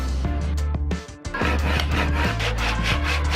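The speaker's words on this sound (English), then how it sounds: "using a little grinding attachment here, a little flat disc piece on our grinder, making it nice and soft" A grinder fitted with a flat sanding disc works over wooden timber planks, giving a loud, continuous abrasive rasp with brief pauses and changes in pressure, close up and without speech.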